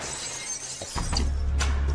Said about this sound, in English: they hear a crashing sound like broken glass